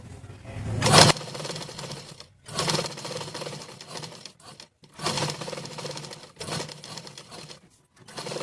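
A sewing machine stitches patchwork pieces onto a blouse in several bursts of rapid mechanical chatter, separated by short pauses, loud and close.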